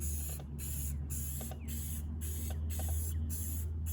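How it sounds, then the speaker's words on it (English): Red spray paint hisses from an aerosol can over a stencil in short, repeated bursts, roughly one every half second, steady and close, with a constant low hum beneath. "be very intentional to spray it straight up and down, not to the side, so no paint gets underneath your stencil."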